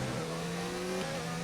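Formula 1 car engine from the F1 2019 racing game at the French Grand Prix, a steady loud mid-pitched drone with a sustained held rev and a slight pitch shift near the end, running alone without talk.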